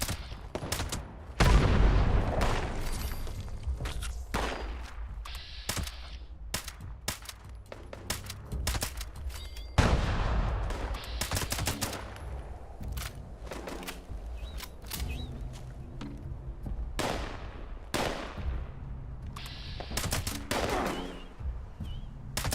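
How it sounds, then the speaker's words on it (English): Repeated explosive blasts from a grenade launcher in Fallout 76 go off in an irregular, nonstop series of loud bursts, mixed with other gunfire and game sounds; no one speaks. "I can hear that fucking nade launcher going off nonstop"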